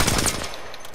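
Rapid gunfire in the Apex Legends video game, a quick burst of several loud close shots that decays into a fading tail within a second, with no voices.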